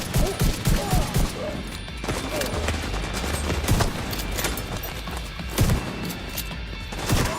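Battle rifle on automatic fire in The Division 2, a loud run of sharp shots with scattered impacts and crashes over steady game ambience.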